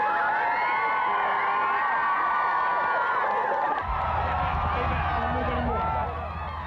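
About 200 schoolchildren in a crowd cheering and shouting together, a dense, continuous wash of high excited voices, with a low rumble joining partway through.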